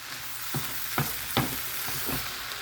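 Cabbage being stirred and tossed in a pan, with soft sizzling under several distinct scraping strokes spaced about half a second apart, close and fairly quiet.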